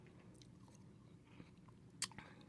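Crunchy watermelon being bitten and chewed close up, soft quiet crunches with one sharper bite standing out.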